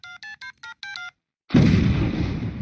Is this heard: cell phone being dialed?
yes